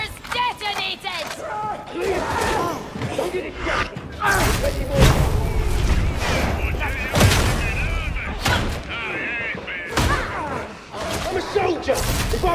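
Enemy detonating in Warhammer 40K: Darktide, heavy booming blasts and thuds amid scattered gunfire, loud and chaotic, with voices talking over the action.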